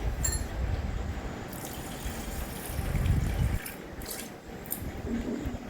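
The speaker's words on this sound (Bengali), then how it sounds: "একটা পাত্রের মধ্যে চাল ডাল নিয়ে নেব, তারপর সেটাকে ভালোভাবে ধুয়ে নেব।" Rice and lentils being washed by hand in a bowl of water, soft close sloshing and squishing with light drips and splashes, quiet and uneven, with no talking.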